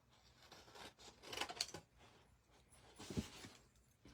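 Scissors make two short, quiet snipping bursts as they cut paper up to a score line while shaping a cocoa packet holder.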